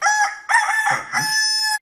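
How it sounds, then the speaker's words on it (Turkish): A rooster crows in three bursts, each a loud, close, harmonically rich cock-a-doodle-doo with short gaps between them and no other sound around it. "Sabahın erken saatinde de horozlar öter etmez"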